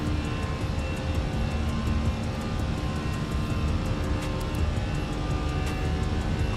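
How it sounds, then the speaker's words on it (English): Airliner jet engines spooling up to climb thrust, a loud, steady, broadband roar heard from inside the cabin, continuous without pause. "Climb thrust coming up."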